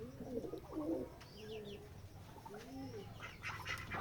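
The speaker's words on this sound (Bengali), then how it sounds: "এই যে আমাদের কবুতরের খামারের কবুতরগুলো" Pigeons cooing at a pigeon farm in a village, several soft, throaty coos and warbles repeating close by over a low background hum, with faint chirps mixed in.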